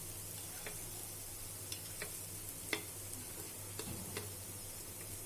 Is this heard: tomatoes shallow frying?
yes